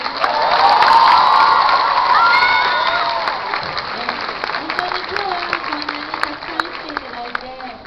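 Crowd at an anime convention discussion panel bursts into applause with cheers and whoops, loud at first and then thinning out as a voice begins talking.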